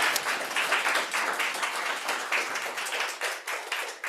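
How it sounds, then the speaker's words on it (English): A modest audience gives a round of applause for a lecturer at an academic conference on the Kyoto School, a steady patter of many hands clapping at moderate loudness that continues throughout with slight fluctuations. "Let's give Graham a nice round of applause."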